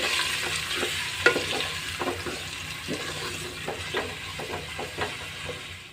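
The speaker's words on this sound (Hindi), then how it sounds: "उसमें हाफ़ किलो ही हम चिकन ऐड करेंगे और इसको हम भून लेंगे" Half a kilo of chicken being stirred and fried with onions in a pan for spicy chicken and potato biryani, giving a steady sizzle with irregular scraping and stirring knocks, close and continuous with no talk.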